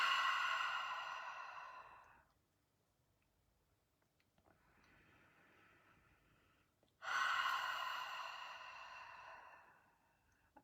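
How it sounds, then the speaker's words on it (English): Two long, deep breaths, each a strong airy inhale or exhale lasting a couple of seconds, with a softer, quieter breath between them in a calm, still room. "take a couple of delicious deep breaths in and out"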